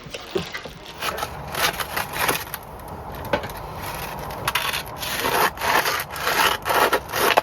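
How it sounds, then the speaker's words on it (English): Sandpaper rasps back and forth over wooden surfaces aboard a narrowboat under restoration, in uneven rubbing strokes that swell and fade close by, with faint background noise and no clear talk. "I'm going to have to sand all this off"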